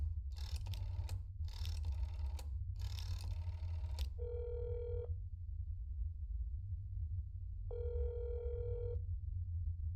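Phone call in the video game That's Not My Neighbor: three quick bursts of keypad or dialing tones, then two long steady ringback tones separated by a pause, clean and fairly quiet.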